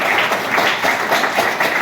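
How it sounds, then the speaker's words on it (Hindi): Applause from an audience at a motivational seminar for people wearing the dress code, a steady patter of many hands clapping, fairly close and loud, with no talk over it. "हम चाहते हैं इनके लिए ताली होनी चाहिए"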